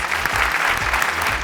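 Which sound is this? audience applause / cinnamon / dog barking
audience applause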